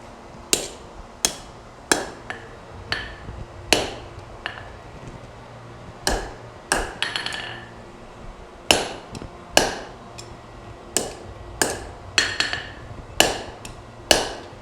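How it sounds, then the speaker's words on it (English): Hot steel is hammered during forge welding, drawing the material out on a short heat: sharp, ringing hammer blows land close and loud in an uneven rhythm, around twenty strikes with brief pauses, and no voices. "getting a pretty short heat, whacking the other end"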